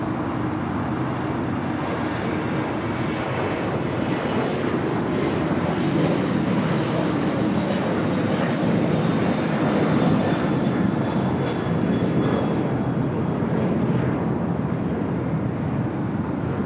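An Alaska Airlines Boeing 737-900ER takes off from LAX, heading for Seattle: a steady, broad jet-engine roar held at a distance for the whole stretch, with no voices over it.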